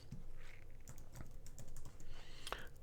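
Someone typing on a computer keyboard, a quick run of soft, close key clicks in an irregular rhythm against a quiet background.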